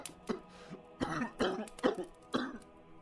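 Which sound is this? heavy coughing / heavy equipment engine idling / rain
heavy coughing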